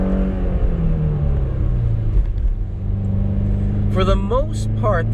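A manual-transmission car engine revs and drops in pitch during an upshift, a steady close rumble heard under a voice speaking throughout.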